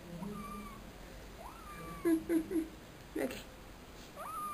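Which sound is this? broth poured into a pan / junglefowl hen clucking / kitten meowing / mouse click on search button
kitten meowing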